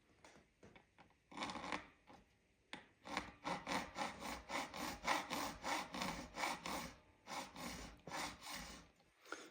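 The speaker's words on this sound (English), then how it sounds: "So I'm filing at an angle matching the headstock angle." Metal file working slots in a brass bass guitar nut, rapid rhythmic rasping strokes, close and fairly quiet, about a dozen even back-and-forth passes.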